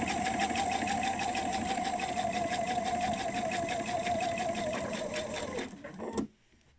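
A sewing machine stitches a fabric bowl cosy in a steady, fast mechanical whir with rapid needle ticking that runs for several seconds, then slows and stops abruptly near the end, leaving quiet.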